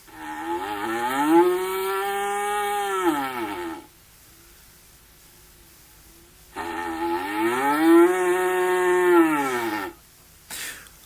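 A cow horn, made in imitation of ancient bronze side-blown horns, sounds two long, loud, rough blasts imitating a bull's roar. Each blast is a sustained bellow that bends upward then drops, separated by a few seconds of quiet.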